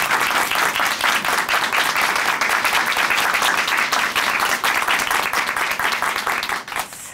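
A studio audience at a Korean Christian testimony broadcast claps loudly for a newly married man, dense sustained applause lasting several seconds before fading at the end.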